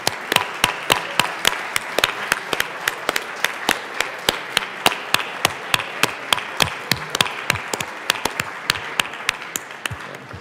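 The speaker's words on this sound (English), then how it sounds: "maybe with a little round of applause here" Applause in the Colorado House of Representatives chamber, rendered as a steady run of sharp, distinct hand claps at an even pace, close and loud, with little else beneath.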